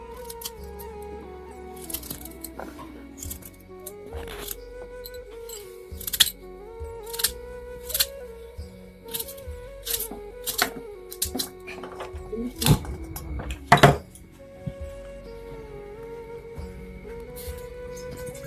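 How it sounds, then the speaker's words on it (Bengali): Knife chopping potatoes finely on a board, with irregular bursts of sharp taps over a low steady background hum; the taps are close and moderately loud. "এই আলু 3টাকে আমি প্রথমে কুচি কুচি করে কেটে নেব।"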